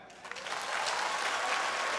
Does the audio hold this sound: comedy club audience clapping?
yes